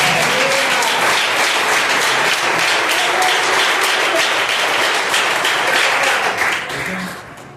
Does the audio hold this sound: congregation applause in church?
yes